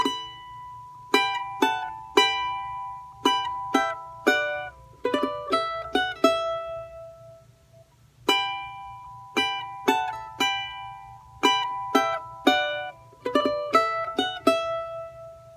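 Charango plays a full melodic phrase, crisp plucked notes in repeating rhythmic groups with brief pauses, each note ringing and decaying, close and unaccompanied.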